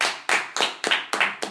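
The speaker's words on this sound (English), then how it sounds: "Let's give them a round of applause." A studio audience claps for two interview guests, a married couple, in short sharp bursts: about six distinct waves of applause, close and fairly loud, with no talking over them.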